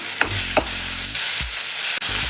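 Onion and tomato sautéing in a pan for a country chicken curry, loud and close, with a continuous hiss of frying broken by a few quick spatula strokes against the pan.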